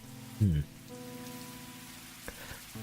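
Rain falls steadily in the video game Fallstreak, a soft continuous patter under faint game tones and a few brief louder sounds.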